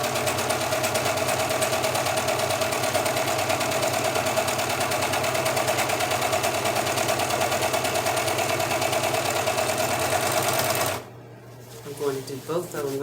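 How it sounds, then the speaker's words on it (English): Serger sewing machine hemming pant legs, a loud, steady, fast mechanical whirring stitch that runs continuously for about eleven seconds and then stops abruptly, followed by a brief voice. "This is the good thing about having a serger sewing machine."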